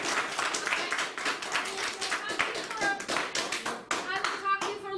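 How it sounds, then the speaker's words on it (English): Applause for the community college director of enrollment at a learning center event, with steady clapping and tapping that carries on through the clip and children's voices mixed in. "Let's give Miss Elise a round of applause."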